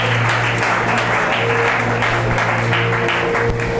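A congregation at a French-speaking church gathering claps loudly and steadily in praise, a dense close wall of applause with a low sustained hum underneath throughout.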